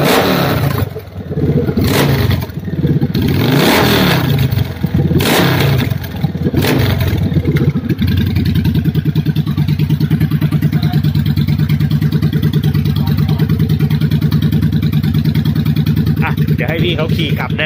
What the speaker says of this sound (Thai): ฟังจังหวะเปิดคันเร่งกัน